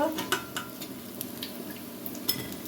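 Onions frying in a pan, a soft sizzle broken by the clink and scrape of a utensil stirring against the pan, steady and fairly quiet, with no talking.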